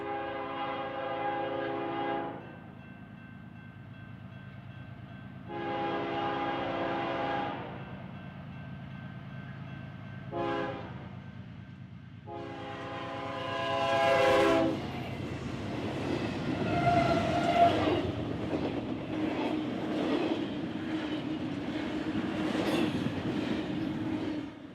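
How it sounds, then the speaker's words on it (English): A BNSF double-stack intermodal freight train rounds a sweeping curve on the north tracks, sounding several loud horn blasts in sequence before the rumbling, clattering wagons roll past close by. "this double-stack intermodal, rounding this sweeping curve on the north tracks."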